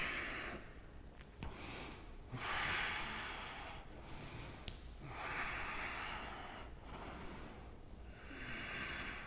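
Slow, deep yoga breaths come as long, airy inhales and exhales, about four cycles. They are soft and close, with faint room hiss between them.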